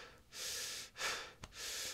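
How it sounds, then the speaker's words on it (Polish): A singing teacher demonstrates diaphragmatic breathing with three deep, airy intakes of breath heard up close. Each breath is a long, breathy rush separated by brief pauses, with no talking. "bo mogę wziąć oddech przeponowy"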